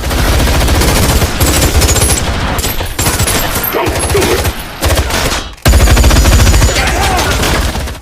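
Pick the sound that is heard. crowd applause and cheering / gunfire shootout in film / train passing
gunfire shootout in film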